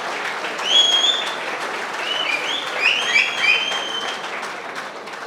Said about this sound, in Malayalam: എല്ലാവരും കൈയടിക്കാൻ ഒരു പ്രോത്സാഹനം കൊടുക്കുക